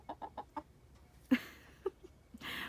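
Young pullets cluck in short, soft bursts on an autumn evening, a few louder calls standing out near the close, with no talking over them.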